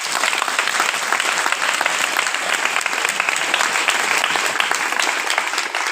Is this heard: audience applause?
yes